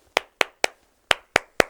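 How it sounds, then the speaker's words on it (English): Six sharp hand claps in a slow, uneven rhythm, close and crisp with short gaps between them, one longer pause near the middle, and no voices. "My hands are for clapping."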